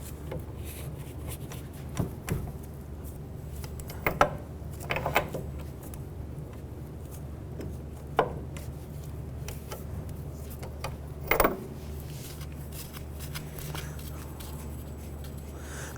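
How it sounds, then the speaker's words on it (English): On a 2005-2007 Jeep Liberty, a 21mm socket loosens the upper ball joint nut with a few sharp ratchet clicks and metallic ticks at irregular intervals over a low steady hum. "Using a 21mm socket, we want to go ahead and loosen the upper ball joint nut."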